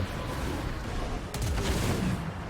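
Grenade blasts and gunfire crackle through a large Total War: Warhammer 2 battle, a dense, continuous roar of battlefield noise with a sharp burst of explosions partway through.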